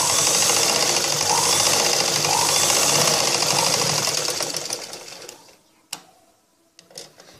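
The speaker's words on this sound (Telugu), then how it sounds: "స్టిచ్చింగ్ చేసుకోవాలి." A sewing machine stitching a blouse runs in a fast, even mechanical chatter for about five seconds, then stops, leaving a few sharp clicks and handling knocks nearby.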